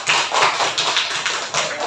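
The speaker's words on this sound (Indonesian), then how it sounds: "kasih tepuk tangan yang meriah" A classroom of students applauding together, bright dense clapping that swells in uneven bursts for about two seconds, close and fairly loud with no talking over it.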